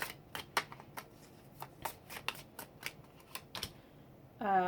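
Tarot cards being shuffled and handled at close range, with a series of crisp, separate card snaps and riffles at an irregular pace and a short burst of other noise at the end.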